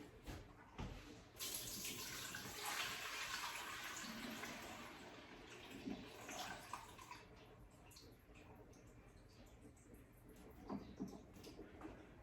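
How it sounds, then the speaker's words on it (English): Cooking liquid from pozole ingredients pours out as it is drained, a steady rushing splash that swells early and then tapers to a quieter trickle. "Drain this out, drain the liquid."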